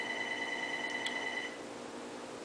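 A telephone rings with a steady electronic tone that holds for about a second and a half and then cuts off, leaving only faint room noise.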